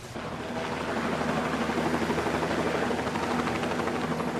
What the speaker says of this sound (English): helicopters fly to the village to pick up people or drop off supplies